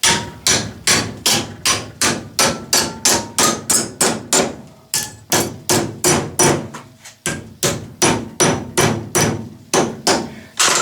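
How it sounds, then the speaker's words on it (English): A hammer taps 0.050-inch-thick aluminum vise jaw caps, bending them onto a Wilton vise: about forty sharp, close metallic blows in quick, steady runs, broken by two short pauses. "just take your hammer"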